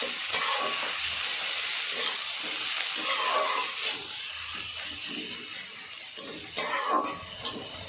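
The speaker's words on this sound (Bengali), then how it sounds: "আদা রসুন বাটা দেওয়ার পরে ভালো করে আমি কষে নেব" Ginger garlic paste sizzles as it is stir-fried for a jackfruit curry, a steady hiss with bursts of louder frying as the paste is moved around the pan, no voices.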